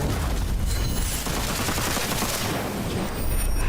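Enemy gunner fire in a video game makes a dense, loud, continuous rattle of automatic gunshots that fills the whole stretch, with rapid overlapping bursts and no pauses.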